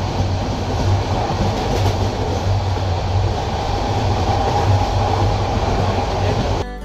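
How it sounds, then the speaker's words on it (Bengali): A Dhaka to Cox's Bazar express train rolls along, heard from inside as a loud, steady rumble with rhythmic wheel clatter on the rails, continuous throughout. "এখন আবার ট্রেনটা আস্তে আস্তে চলতে শুরু করেছে।"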